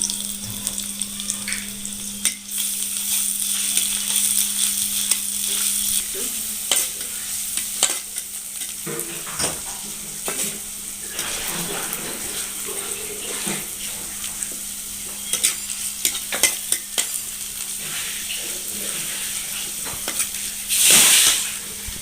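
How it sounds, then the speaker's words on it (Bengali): Chopped onion and crushed garlic hit hot oil in a village-kitchen pan and crackle in a loud, steady sizzle. Spoon stirs and scrapes come in irregular bursts, with a brief louder flare near the end. "তেলটি গরম হয়ে গেছে, আমি এখন এর ভিতরে পেঁয়াজ কুচি আর এই যে রসুন থেতলা করে রেখেছিলাম দিয়ে দিলাম।"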